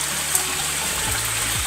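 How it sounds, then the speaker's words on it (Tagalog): Mountain spring water flows steadily from a rocky hillside source among large boulders, a continuous close rushing trickle with no talk over it. "buhay na buhay ang tubig dito mga idol oh"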